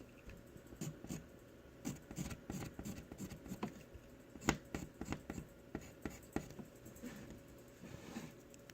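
A pencil scratches across paper in quick, uneven strokes, with brisk scribbling and short hatching marks close to the microphone and no talking.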